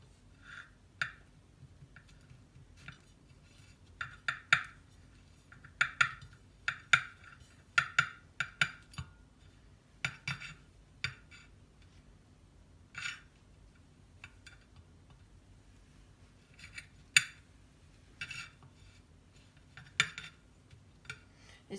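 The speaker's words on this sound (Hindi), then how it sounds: "ये जो ब्रेड मैंने ली है इसको मैं ऐसे अंदर से ऐसे काट लूँगी।" Bread slices being cut out from the inside for an omelet, small crisp knife clicks and taps against a board coming in scattered bursts, quiet and close.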